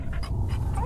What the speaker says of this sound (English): The dog is barking at something.